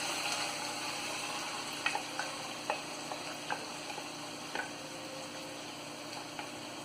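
Ground beef sizzles softly in oil and its own rendered fat in a pan, a quiet continuous crackle broken by a few light clicks of stirring.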